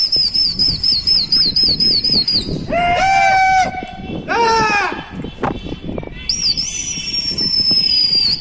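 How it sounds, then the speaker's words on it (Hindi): A Hyderabadi racing pigeon takes off with bursts of wing flapping, set among chirps and shrill whistling tones nearby that start, stop and return. "ये चल दिया है कबूतर"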